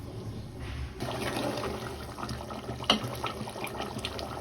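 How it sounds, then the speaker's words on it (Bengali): Water poured into a pot of beef curry cooked with potatoes, a steady splashing pour with a short sharp splash near the end, close and alone. "এবার আমি পুরোপুরি রান্না করার জন্য পানি দিয়ে দিব।"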